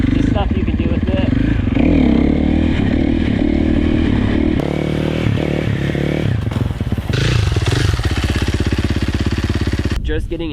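A dirt bike engine revs hard as the clutch is popped to lift the front wheel into a wheelie, loud and close, the pitch rising and falling through repeated surges with clattering mechanical noise.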